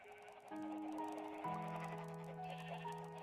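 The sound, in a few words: sheep bleating in Minecraft video game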